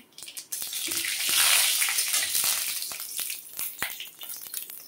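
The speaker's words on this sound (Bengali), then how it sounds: "অল্প করে আমি তেলটা দিলাম, আর 1 চামচ কালো জিরে ফোড়ন দিয়ে দিলাম।" Nigella seeds hit hot fish oil in a pan, a sudden loud hiss and crackle that swells then slowly fades with scattered pops.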